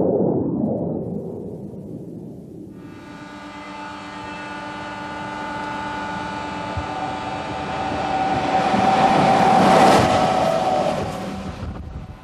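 Maglev magnetic levitation supertrain passing, a rising, swelling rush that builds to a loud broad roar near the end before fading, with no voices.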